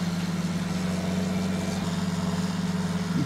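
A tractor engine in Farming Simulator 19 runs at a steady, elevated 1800 rpm, a loud continuous droning hum with a constant pitch and a slight rise at the very end.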